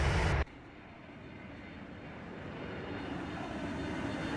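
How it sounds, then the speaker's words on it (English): Jet airliner engines in a flight simulator game drone steadily after a sharp cut, the broadband roar slowly building as the airplane flies away, with no voices. "I'm going to let the airplane fly away."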